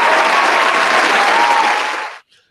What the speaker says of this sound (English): And here we go for applause.